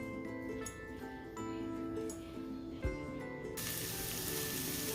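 Peppers, onions and minced garlic sizzle in a pan, a continuous near frying hiss with small crackles and one brief clunk midway, growing brighter and louder toward the end, with no talking.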